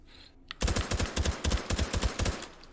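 Suppressed H&K MP5K fires in the virtual reality game H3VR: a rapid burst of about a dozen muffled, thudding shots with mechanical clacks, steady and close, following a brief click.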